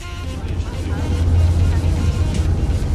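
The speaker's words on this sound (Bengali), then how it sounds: "তারপর আমাদের বোট স্টার্ট হয় অ্যান্ড আমরা এনজয় করতে থাকি" A tour boat's engine rumbles low and steady on the water near Put-in-Bay, a constant deep drone with wind noise, while people talk over it.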